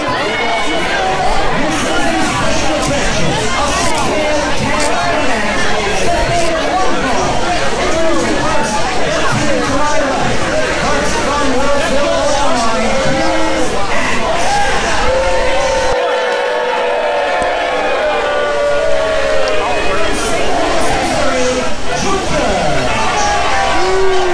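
Loud, steady roar of a packed crowd at a Southern Illinois championship wrestling show, dense chatter and shouting with cheers rising and falling throughout, close and continuous.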